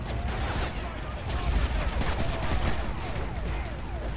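Dense, continuous gunfire rattles through a Call of Duty: Modern Warfare 3 battle, a steady loud fusillade of overlapping shots and rumble with no break.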